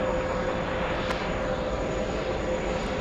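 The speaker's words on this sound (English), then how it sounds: "We have the little CRJ on the move." A CRJ regional jet taxis at JFK airport in New York on a hot day, its engines a steady, faint, distant whine and rumble without any voices.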